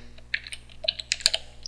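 Computer keyboard keys tapped, the up arrow then enter, a few quick close clicks in a short burst.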